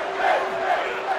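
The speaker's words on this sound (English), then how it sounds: "Balor is firing up the crowd here." Crowd noise from WWE 2K24 wrestling swells in broad waves of cheering and shouting, loud and steady, with a faint voice in the mix.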